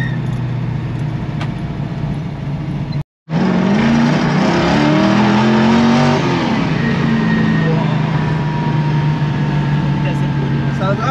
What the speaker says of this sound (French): C'est un dragster.